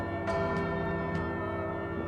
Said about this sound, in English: That's as obnoxious as I can be with that bell.